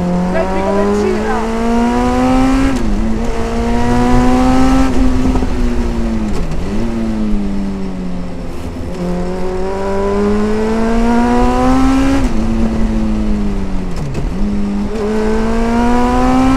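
Westfield Megabusa race car driven hard on track, its engine revving high and loud in long climbing pulls broken by quick gear-change dips, continuous and close throughout.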